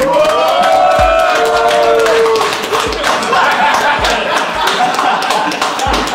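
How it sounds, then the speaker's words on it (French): A studio audience at a rap-contenders quiz special claps and cheers loudly for the returning quiz champion, a dense crowd wash with a few heavy thuds, while voices talk over it. "on peut l'applaudir"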